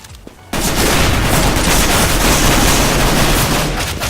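Counter-Strike gunfire erupts after a short quiet lead-in, a loud unbroken barrage of rapid shots and bursts that holds at full intensity to the end.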